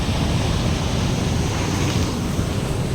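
Heavy rushing river water near Wawa Dam in Rodriguez during rain, a dense, constant roar filling the scene with no talk.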